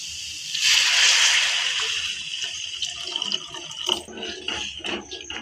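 A quick gush of water pours into a pan, loudest at first, then tapering into sloshing and faint clinks nearby.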